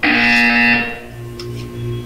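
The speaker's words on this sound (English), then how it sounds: "When you hear the buzzer, look up at the ceiling." Buzzer in the video game Portal 2, a loud harsh electronic drone that holds for about a second, then fades to a lower hum.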